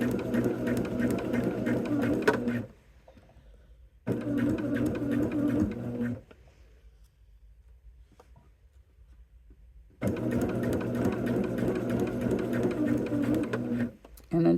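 A sewing machine stitches along a solid line on a LoneStar quilt in three steady, whirring bursts separated by quiet pauses, close and clear, with a brief restart at the very end.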